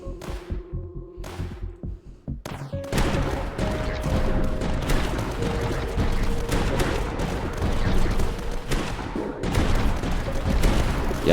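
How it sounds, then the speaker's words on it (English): Pulse cannon in the game Tower Dominion firing in repeated rapid bursts, dense booming volleys layered over a game soundtrack, opening with a few sparse thumps before a sustained barrage. "that pulse cannon is really helping out and take care of these guys"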